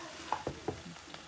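Broccoli and bacon, added where Brussels sprouts were planned, frying in a pan as a spoon stirs them, giving a few soft scraping knocks over a faint sizzle, close and quiet.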